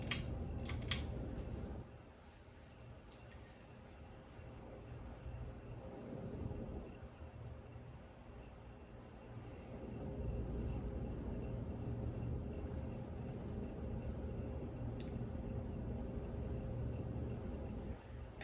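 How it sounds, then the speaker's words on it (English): A 36-inch Hampton Bay San Marino ceiling fan runs on medium speed, giving a steady low whooshing hum with a faint rumble that swells slightly partway through and holds on without talk. "we're gonna go ahead and crank this fan to medium"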